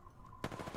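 A weapon being test-fired in Apex Legends, heard as a sudden burst of rapid gunfire that starts abruptly after a brief quiet moment, close and punchy.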